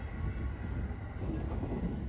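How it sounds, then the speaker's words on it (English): A Tokyo train rumbles steadily past, a continuous close, moderately loud roar of wheels and carriages with no speech. "all of these trains bustling in and out of the stations"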